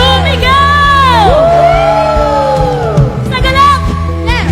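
A church congregation shouts for joy, with a loud crowd of whoops, cheers and yells rising together over a sustained musical backing.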